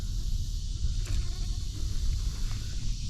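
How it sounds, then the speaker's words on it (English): A small sweat bee buzzes around a kayak angler on a lake, a faint continuous hum over low background rumble from the boat and outdoors, with no talking. "There is a little sweat bee flying around here, and it only makes me nervous whenever I stop hearing it buzz."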